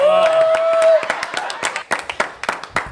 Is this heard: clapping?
yes